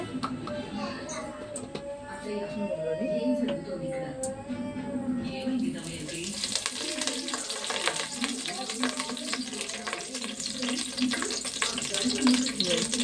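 Curry leaves frying in hot oil give a soft sizzle while someone talks over it, then a loud, crackling hiss takes over and keeps spitting steadily close by.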